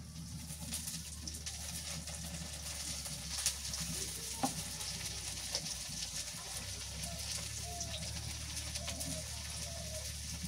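Green chilies with onion and garlic paste fry in a pan, producing a soft, continuous sizzle with a few faint clicks from stirring, fairly quiet and close throughout.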